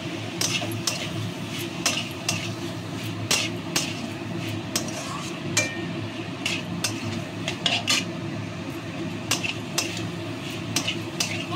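Prawns with spices are stirred in a metal pan for a Bengali mocha chingri dish, a spoon scraping and knocking the pan in irregular close clinks over a soft frying hiss, no talk.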